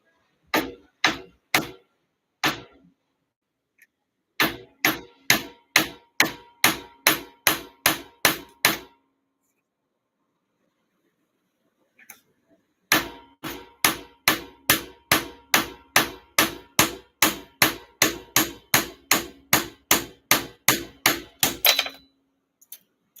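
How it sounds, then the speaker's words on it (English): Hammer blows on metal during jewelry smithing ring out in crisp, evenly spaced bursts: a few strikes, a pause, a long steady run, a gap of silence, then another long regular series, close and loud with no talk. "Try hammering a little more, see what happens."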